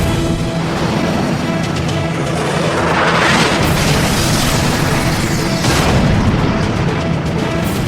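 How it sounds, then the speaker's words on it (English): A missile slams into the right wing of a MiG fighter and explodes, a sustained roaring blast with a crashing burst of debris, loud and dense throughout without speech. "The missile streaks toward the MiG at twice the speed of sound and plows through the MiG's right wing."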